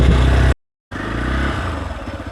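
A motorcycle riding along a misty mountain road, its engine droning loud and close, dropping out abruptly for a moment before the steady rumble resumes.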